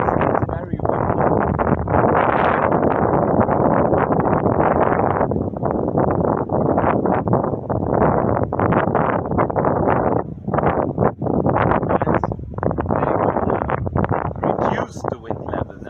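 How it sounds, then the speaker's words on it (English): Strong wind buffets the microphone in loud, gusty rushes that come and go in waves, with a voice speaking through it. "it's very windy."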